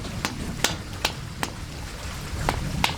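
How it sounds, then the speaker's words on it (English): Six sharp metallic taps spaced about half a second apart as aluminum end caps are hammered into tubes, close by, over a quiet hiss of background noise. "hammer each corner in."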